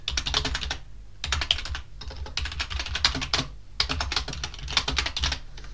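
Bursts of quick keystrokes on a computer keyboard while entering text in the nano editor, several clusters of close, crisp clicking separated by brief pauses, with no talking.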